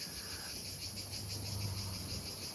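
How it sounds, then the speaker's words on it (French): Insects chirping in Greece, cicada or grasshopper, a steady high-pitched buzzing trill that carries on without pause and stays fairly faint, with no voices. "Regardez ça, les insectes. Je sais pas ce que c'est. Oh, une cigale, non, c'est une cigale, une sauterelle"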